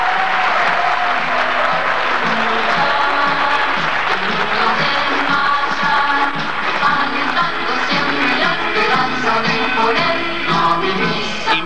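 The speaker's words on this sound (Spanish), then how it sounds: "Fuerte el aplauso para todos los participantes" Spectators at a youth world championship prize ceremony applaud all the participants, a sustained, full round of clapping over a background of tonal music that continues throughout.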